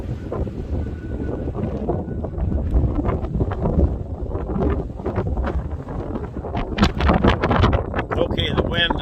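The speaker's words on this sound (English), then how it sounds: "the wind is incredible here" Strong gusty wind roars and buffets the microphone on top of Spirit Mound, a loud continuous rumble with rising gusts. A voice talks over it at times.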